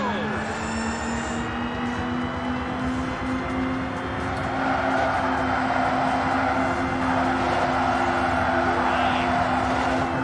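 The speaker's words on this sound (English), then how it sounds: "The engines are on." Race car engines idling and revving in the futuristic racing game Xenon Racer, a steady droning whine with sustained tonal bands, loud and unbroken throughout, slightly swelling midway.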